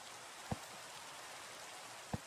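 Rain falls steadily in the Minecraft ATM8 modpack, a faint even hiss with two soft thuds about a second and a half apart.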